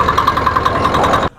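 A three-wheeled paddy threshing machine's engine runs with a steady, loud, close mechanical drone and rhythmic pulsing, then cuts off abruptly near the end.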